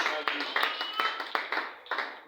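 A church congregation applauding during a service, a string of sharp claps in uneven bursts with voices mixed in.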